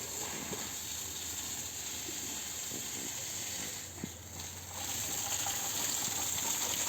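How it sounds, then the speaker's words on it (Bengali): Water from a motor pump sprays onto garden plants as a steady, soft hiss that runs continuously at a moderate distance, dipping briefly partway through. "এই যে এইভাবে মটরের জল দিয়ে দিয়ে এই সব গাছের এইভাবে যত্ন করা হয় প্রত্যেকটা গাছে গাছে জল দিচ্ছে"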